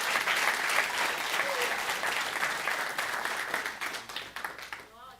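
A church congregation applauds loudly and steadily, a dense wash of clapping that tapers off at the end as a voice begins to speak.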